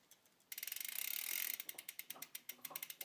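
A Campagnolo 11-speed bicycle chain on the gears, heard close as a fast run of ticking clicks that merge into a buzzing whir, then slow to evenly spaced, distinct ticks.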